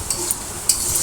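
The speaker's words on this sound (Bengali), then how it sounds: "কিছুক্ষণ ধরে ভেজে নিচ্ছি" Mustard seeds and pointed gourd frying in a pan, a steady close sizzle with brief stirring scrapes and a sharper clatter partway through, no voices.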